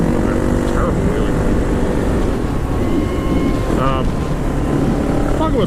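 A motorcycle engine drones loud and constant under heavy wind roar during a failed wheelie attempt. The noise stays dense and unbroken throughout, and a voice talks over it.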